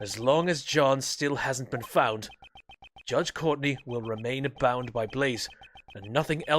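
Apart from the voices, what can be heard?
No everyday noises stand out.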